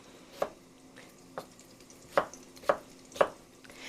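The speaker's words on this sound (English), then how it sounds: "They're going to be chopped about the same size as my sausage" Potatoes chopped with a knife on a cutting board for a sausage and cheddar hash frittata, five sharp knife strikes spaced irregularly, close and clear with no talk.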